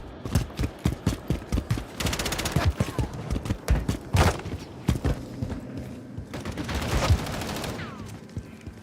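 Gunfire rattles through a Warzone video game match, with rapid automatic bursts and single shots repeating close and loud across the whole stretch while in-game voices speak in places.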